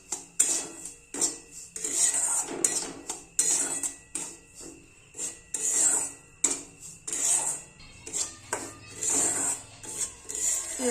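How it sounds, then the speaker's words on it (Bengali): Semolina (suji) being dry-fried in a pan for halwa gives irregular scraping and rasping strokes of a spatula against the metal, with bursts of clatter between short quiet gaps. "সুজিটা ভেজে নেব"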